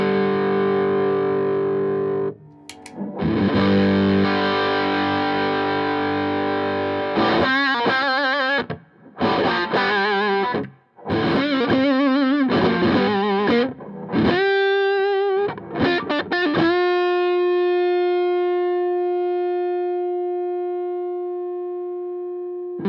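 Electric guitar driven through a Thrilltone drive pedal, playing overdriven chords and choppy riff bursts separated by short pauses, ending on a long ringing note that slowly fades, loud and with no talk.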